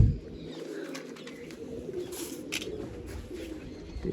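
Pigeons, adults and young, sunning outdoors coo in soft, continuous, overlapping calls nearby, with faint chirps and low background rumble throughout.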